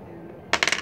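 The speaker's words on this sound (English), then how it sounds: "Won that dice roll." Dice clatter onto a table during a tabletop game with army men figures, giving a sudden sharp rattle of quick bouncing clicks that fade out within half a second. The sound is close and there is no voice.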